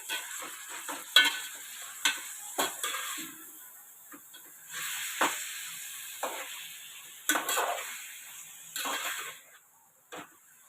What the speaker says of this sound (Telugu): చికెన్ వేసుకుంటాం ఇప్పుడు